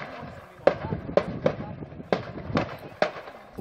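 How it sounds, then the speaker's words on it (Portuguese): Gunshots and stun grenades from police at a prison: several sharp, loud bangs at irregular intervals, about six blasts in quick succession over a low rumbling background. "agentes da polícia lançaram bombas de efeito moral e efetuaram diversos disparos em direção ao pátio"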